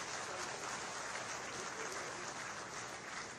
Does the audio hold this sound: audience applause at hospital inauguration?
yes